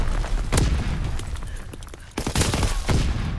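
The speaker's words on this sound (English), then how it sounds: "Enemy mortar fire incoming!" Incoming enemy mortar fire in a multiplayer shooter game: loud blasts and crackling gunfire bursts, with a sharp impact near the start and another heavy burst past midway, continuous battle noise between them.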